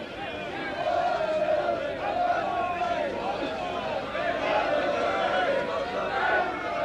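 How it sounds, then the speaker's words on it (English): A rugby league crowd of Wigan fans cheers steadily at a charity shield presentation, a broad continuous roar of voices with a commentator speaking over it. "The Wigan fans cheering every individual."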